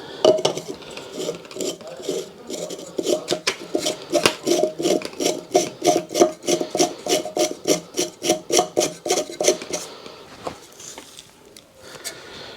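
Metal pipe fitting being screwed into a new basement sump pump, giving a run of rhythmic scraping, clinking threads with repeated short strokes, close and fairly loud, no talk.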